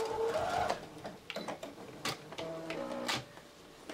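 A sewing machine stitches a single row while making an armchair sewing caddy, its short mechanical runs starting and stopping in quick irregular bursts, close and moderately loud with no voices.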